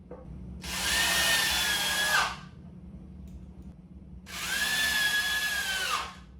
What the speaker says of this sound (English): I sink the screws into the side of the spine piece